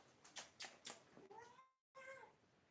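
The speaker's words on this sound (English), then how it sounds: "One little pussy cat." A pet cat meows twice up close, each a short rising-and-falling call, after a few soft sharp sounds, all fairly quiet.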